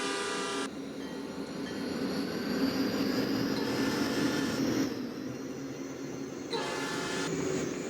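A video-game train built in a multigenerational train setup rumbles along steadily with a continuous rolling drone, broken by two bright horn blasts at the start and near the end.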